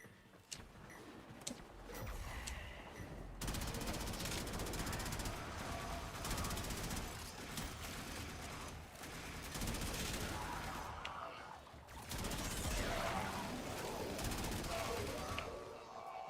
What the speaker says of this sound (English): Shooting at me while I'm getting in my ship.